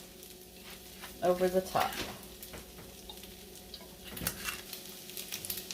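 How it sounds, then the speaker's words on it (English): Spam fried rice sizzles in hot oil in a pan while a silicone spoon stirs and scrapes it, giving a steady crackle with soft knocks. A voice talks briefly over the frying. "I just kind of let the rice fry in those oils for a little bit."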